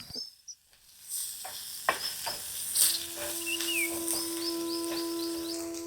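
Chopped onion tipped into a hot pan with turmeric, setting off a steady moderate sizzle that begins after a brief quiet stretch and continues, with some stirring clatter and a faint background tone.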